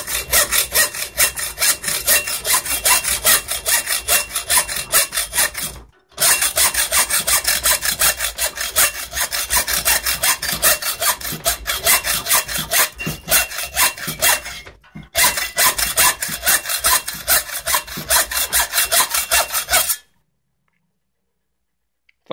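Hand saw cutting a homemade arrow broadhead off level, loud steady back-and-forth strokes in three long bursts with two brief pauses, no talking.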